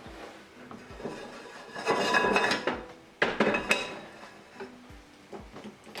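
Metal pans clatter and scrape against a stovetop, with several knocks and clanks spread across a few seconds, close and moderately loud.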